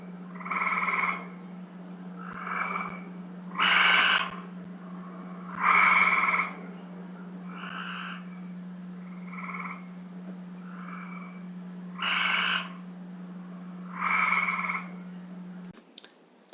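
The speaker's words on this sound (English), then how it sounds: "in this recording you'll hear the Cope's gray first and then the eastern gray second." A Cope's gray treefrog gives short harsh trills, followed by the slower trills of an eastern gray treefrog, each call loud and close, repeated at intervals over a steady low hum with no voices.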